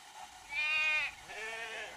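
A sheep bleats twice in a row, a longer wavering call followed by a softer second one, clear and moderately close over quiet background.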